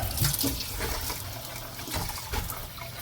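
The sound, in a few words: rinsing tumbled rocks under running water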